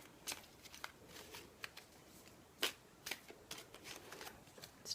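Tarot-style oracle cards are shuffled close by during a reading, a run of quick papery riffles and flicks with small pauses, fairly quiet.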